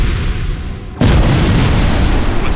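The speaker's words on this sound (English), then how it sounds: "the Japanese submarine is engulfed in a massive explosion, sinking beneath the waves" A massive explosion engulfs a Japanese submarine at sea, erupting suddenly after a low rumble into a loud, sustained roaring blast that fills the remaining seconds.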